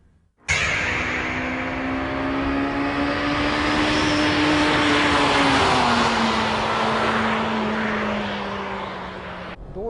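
Honda Civic EK9 Type R engine pulls loud and steady while driving, with a sustained rising drone that holds for several seconds and eases near the end.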